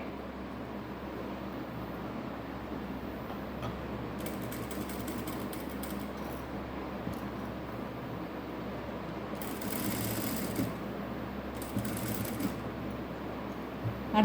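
A sewing machine stitches patchwork onto a blouse using a border. It makes a soft, steady mechanical whir with a few brighter bursts of faster running. The sound stays faint and even throughout.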